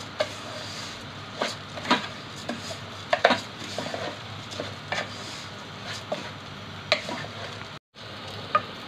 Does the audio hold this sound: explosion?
no